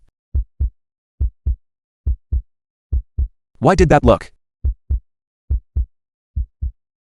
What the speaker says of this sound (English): Why is my heart beating so fast?